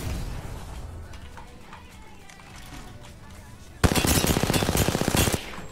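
Rapid automatic gunfire in a video game, a dense burst of shots arriving loud and close in the final two seconds after quieter game ambience with a voice talking.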